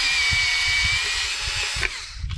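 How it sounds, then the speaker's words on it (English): An IKEA drill bores out a hole in a metal part of a MANALG lamp, a loud steady high whine for about two seconds before it spins down with a few knocks and rattles. "I have to increase the diameter of this one a little bit with my IKEA drill."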